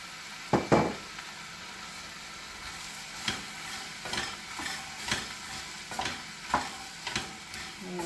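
Beans are stirred in a frying pan over a soft, steady sizzle, with a spoon scraping and knocking against the pan in repeated short strokes, close and fairly quiet.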